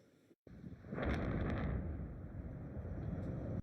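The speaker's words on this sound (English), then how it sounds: "Multiple explosions at the TPC Group chemical plant have rocked the small town of Port Neches, Texas." Explosions at the TPC Group chemical plant in Port Neches, Texas, arrive as a sudden, heavy roar after a brief cutout, rising into a sustained rumble that stays loud to the end.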